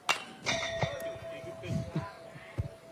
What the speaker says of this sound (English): That one rung the bell.